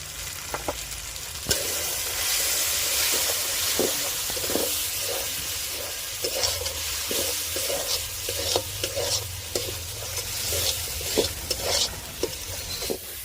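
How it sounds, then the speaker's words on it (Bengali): Ground cumin, coriander, black pepper and Kashmiri red chili powder fry in oil for a rui fish curry, with a steady close sizzle and a regular rhythm of spatula stirs and scrapes. "মশলাটা ভালো করে কষিয়ে নিয়েছি"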